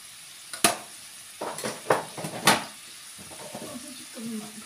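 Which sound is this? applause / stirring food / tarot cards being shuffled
stirring food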